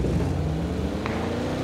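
A car engine in the video game PUBG hums steadily at moderate volume, a low continuous drone with slight pitch drift as the vehicle drives along.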